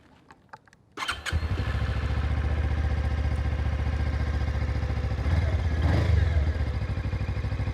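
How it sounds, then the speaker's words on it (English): A few clicks, then a motorcycle engine catches and settles into a loud, steady idle with a throaty pulsing rumble close by, briefly revving. "I'm going to start it up because I reckon this bike actually has a pretty reasonable exhaust note to it"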